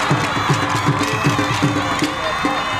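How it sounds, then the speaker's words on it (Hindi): A school sports opening ceremony crowd in Bahawalpur cheers and applauds, with rhythmic shouts and children's voices rising over a loud, continuous wash of noise. "जोरदार तालियां"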